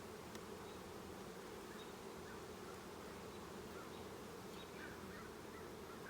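Honeybees buzz during a hive inspection, a faint, continuous, dense hum of many insects with no voices.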